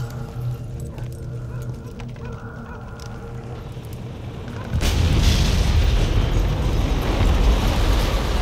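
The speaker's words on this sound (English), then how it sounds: "Saved by the grenade." A grenade goes off in the Mafia II video game, a sudden loud broadband blast at about five seconds that breaks over a low humming game soundtrack and leaves a sustained rumbling wash afterward.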